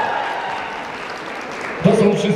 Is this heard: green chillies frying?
no